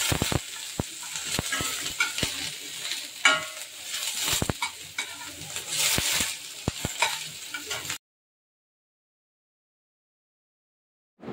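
Crushed garlic sizzling in hot oil with five-spice, chillies and curry leaves for a mango chutney, a steady frying hiss broken by sharp spoon scrapes and taps against the pan, close up and without talk, then silence.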